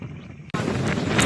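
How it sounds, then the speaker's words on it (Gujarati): Cool wind blowing outdoors, a brief quieter moment then an abrupt surge of steady, blustery rushing noise buffeting the microphone. "આ ઠંડો ઠંડો વાયરો જબરજસ્ત એક નંબર વાયરો આવે"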